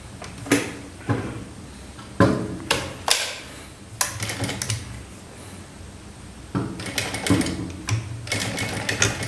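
A sewing machine stitches a blouse shoulder seam in short uneven bursts, interspersed with clicks and handling knocks; close and moderately loud, alone without talking.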